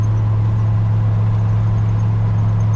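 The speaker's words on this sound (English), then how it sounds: "The exhaust on this, the side pipes sound really good on this." A 1949 Ford F-6 truck with side pipe exhaust idles steadily, a strong low rumble with a constant deep hum and an even, easy tone, close by and with no voices.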